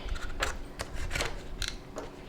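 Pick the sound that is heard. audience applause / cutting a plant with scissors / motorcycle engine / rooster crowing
cutting a plant with scissors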